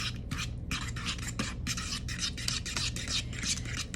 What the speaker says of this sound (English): I'm just gonna whisk this into a dressing. Get it all whisked together.